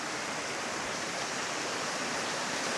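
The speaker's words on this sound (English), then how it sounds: "immediately you have some beautiful streams you have to cross" Mountain streams rushing beside a hiking path above Aurlandsfjord in Norway, a steady, loud broadband water roar filling the whole moment with no pauses or voices.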